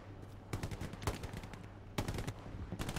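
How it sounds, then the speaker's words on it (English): Gunfire in the WWII shooter Hell Let Loose comes in sharp bursts and single cracks at irregular intervals, with a steady low hum underneath and no talk. "we're getting shot at"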